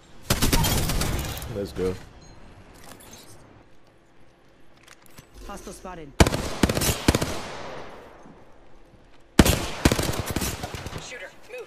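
Bursts of automatic gunfire from Apex Legends, a loud rapid volley opening, then two more dense sharp bursts later, with a short spoken call and quieter game sounds between.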